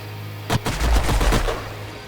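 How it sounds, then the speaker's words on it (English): Twin guns fire in Age of Wonders Planetfall: a sharp first shot followed by a rapid burst of heavy rounds lasting about a second, loud and close, then a fading tail over a low hum. "Twin guns missed"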